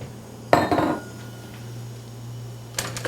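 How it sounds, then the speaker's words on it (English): Chopped onions hit a pan of warm butter and olive oil with a sudden clattering sizzle, then settle into a quiet steady hiss; a second brief clatter follows near the end. "I'm going to add my onions in there."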